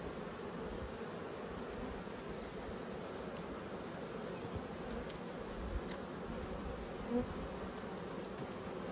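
Honeybees humming at an open hive while a beekeeper works the frames, a steady low drone filling the whole stretch, fairly quiet and continuous with a few faint clicks.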